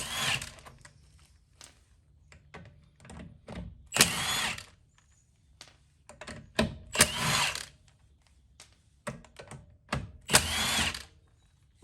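Power tool with a 17 mm socket spinning off wheel lug nuts on a BBS Style 5 wheel, in several loud bursts of whirring and rattling, separated by quieter pauses.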